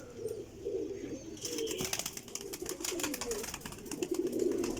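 Several pigeons coo in soft, overlapping rolling calls at close range, with a brief flutter-like rustle partway through; the birds are a loft of racing pigeons, including a Teddy pigeon.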